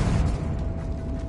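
A spell explosion in the Hogwarts Legacy video game, a dense booming burst with low rumbling that rolls on steadily for just over a second, fairly loud and alone.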